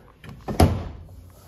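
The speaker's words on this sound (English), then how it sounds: "To lock it, this door has to close on this latch." A Honda Pioneer 700-4 side-by-side door swings shut onto its latch, giving one solid close-range thunk with a brief rattle before it settles, alone with no talk.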